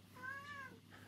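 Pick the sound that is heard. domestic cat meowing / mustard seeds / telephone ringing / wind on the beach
domestic cat meowing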